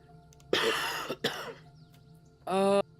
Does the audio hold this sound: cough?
yes